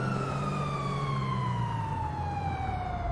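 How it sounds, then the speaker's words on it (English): A police car siren in the video game GTA V wails loudly and steadily, a close, continuous rising and falling tone with no talk over it. "sitting there at a red light with his siren on"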